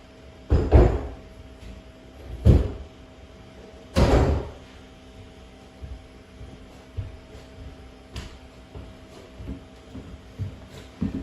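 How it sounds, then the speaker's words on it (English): A door being moved and handled during mobile home window frame repair, with several hollow thumps and knocks at irregular intervals over a faint steady hum, fairly close and with no voices. "Move this door out of here before I get paint all over it."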